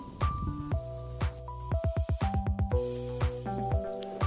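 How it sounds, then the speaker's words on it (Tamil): Soaked cooked rice being squeezed by hand out of its soaking water for a fermented breakfast, a run of wet squishes and drips, close and repeated in a brisk irregular rhythm. "அடுத்த நாள் காலையில் அந்த தண்ணியில் இருந்து சோறை பிழிஞ்சு தனியாக எடுத்துடணும்."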